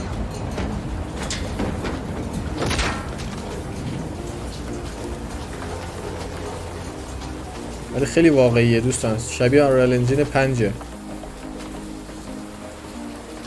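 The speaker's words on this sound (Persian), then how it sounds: "آی بارون رو ببینید چقدر واقعیه" Game rain falls steadily in The Last of Us remake trailer, a soft, constant hiss of drops on surfaces. Someone talks over it, and a brief loud musical swell cuts in midway.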